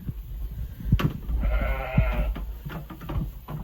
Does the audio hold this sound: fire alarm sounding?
no